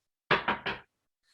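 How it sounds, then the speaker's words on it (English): Three firm knocks on a door late at night, struck close and loud in quick succession, with silence afterward. "one night suddenly I get a knock on the door."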